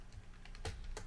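Typing on a computer keyboard tucked beneath a desk in a home recording setup, a few quiet scattered key clicks followed by two sharper, louder keystrokes, close and alone.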